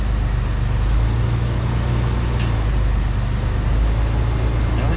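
An AC fan in a barn-find Camaro drones loudly with a steady low rumbling hum and a faint whirring roar, running continuously without any talking.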